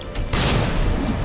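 A grenade goes off in Resident Evil 2: a sudden loud boom that rolls into a sustained rumbling roar, alone with no talking.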